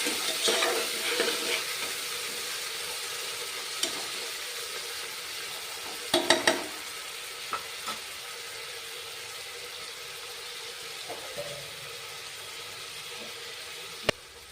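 Prepared paste frying in a pan for tomato biryani: a continuous soft sizzle running throughout, broken by occasional spoon scrapes and sharp clinks against the pan, close and fairly quiet.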